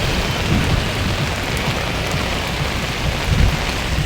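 A heavy downpour hisses and drums without letup, loud and close, with a few thicker splashing bursts near the start and again toward the end and no one speaking.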